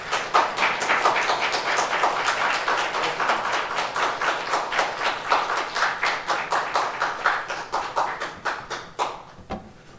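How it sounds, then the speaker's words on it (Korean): A church congregation at a Sunday worship service claps in a steady, rhythmic unison to welcome a guest speaker, loud and close for most of the stretch, then breaking off abruptly near the end. "이 시간 박수로 맞이해 주시면 고맙겠습니다"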